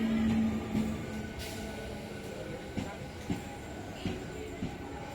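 A Santragachi local train in West Bengal, with a low rumble and hum of the running train, occasional clanks and thumps, and a brief squeal near the start.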